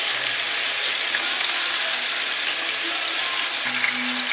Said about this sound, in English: And fry for another 4 minutes